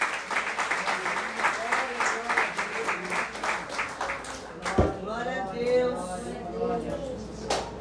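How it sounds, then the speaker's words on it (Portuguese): Church congregation applauding, a rhythmic patter of clapping hands that swells and continues as a voice speaks over it. "Dê uma salva de palmas."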